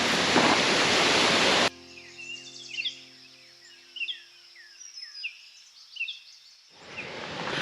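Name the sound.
waterfall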